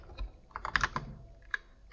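Quick, soft keystrokes patter on a computer keyboard in a short close burst, then a couple of isolated taps follow.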